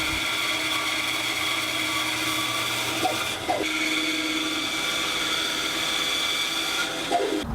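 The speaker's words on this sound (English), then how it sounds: "I'll finish up those cuts on the bandsaw." Bandsaw cutting a tenon on the end of an oak chunk, a steady loud whine with a constant motor hum throughout, with brief shifts in pitch as the blade bites into the wood.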